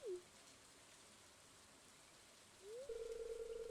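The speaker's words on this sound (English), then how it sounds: "Why are you out here in the rain?" Steady, quiet game rain falls in Stardew Valley as a soft, continuous hiss, joined near the end by a sustained synthetic tone.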